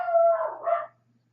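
A dog gives a single short bark-whine, close and fairly loud, lasting under a second before quiet returns.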